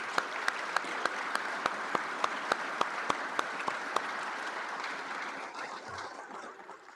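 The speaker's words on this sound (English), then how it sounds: "Please give me a big round of applause." Audience at an outdoor USDA agricultural research center groundbreaking ceremony claps steadily, a broad wash of applause heard from a distance with one nearby pair of hands clapping in sharp, evenly spaced beats before fading out.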